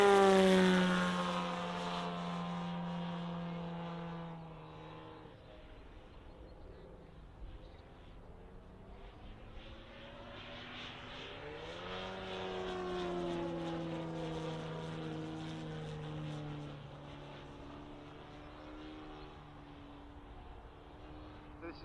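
Model airplane with a 4-cylinder engine flying inverted at an airshow, a droning engine whose pitch rises and falls as it passes overhead at a distance, with background talk from people nearby.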